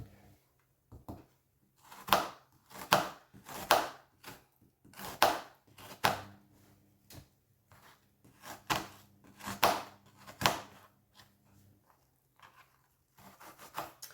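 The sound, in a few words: chopping a piece of onion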